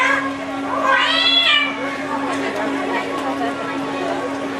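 A person imitates a cat's meow, a rising and falling wail at close range, heard amid a steady electrical hum and background murmur, during a storytelling session where children are present.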